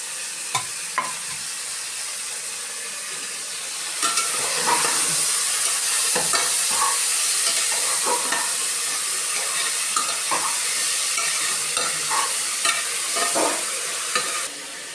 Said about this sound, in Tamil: நம்ம நெய் போட போகிறோம்